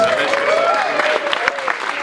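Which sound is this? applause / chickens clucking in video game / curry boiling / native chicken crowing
applause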